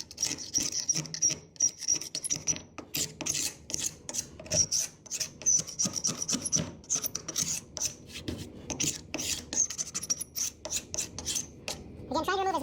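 Dried glue is scraped off a wooden board that is clamped down. Repeated close, rasping strokes come in a steady rhythm with brief pauses between passes, and no one speaks.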